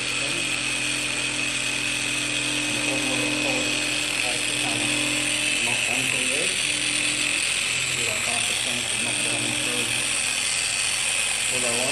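Polishing machine buffing the tailgate of a rusty Ford Falcon XW wagon in a garage, using a foam pad, gives a steady high-pitched motor whine with a low hum beneath it, constant and close throughout, with faint voices now and then.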